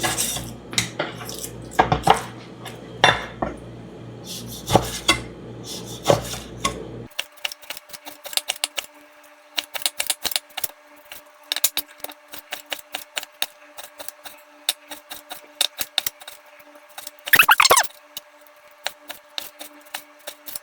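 A kitchen knife slices raw beef into quarter-inch strips for a beef, pepper and mushroom stir fry, giving close, irregular sharp taps and knocks against a cutting board with brief gaps between cuts.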